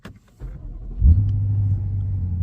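A BMW X5 M engine starts up nearby: a brief starter whir, then the engine catches with a loud low rumble and settles into a steady, deep idle.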